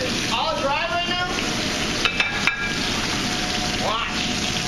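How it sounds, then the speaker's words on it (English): Steady sizzle of a hot dry pan browning short ribs, with running water and a few light clinks of utensils, loud and close throughout. "See that pan sizzling?"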